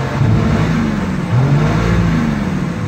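A Cummins 12-valve diesel in a Dodge Ram, fitted with a governor spring kit, revs up loudly and steadily from close by, its throaty drone rising and falling, with no voices.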